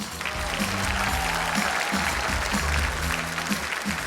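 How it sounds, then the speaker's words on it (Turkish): Audience applause at a concert for a Crimean Tatar book fair, a dense wash of clapping that holds steady throughout with a low hum underneath. "Daha bir kere alkışlarımızı bağışlayık onlarga."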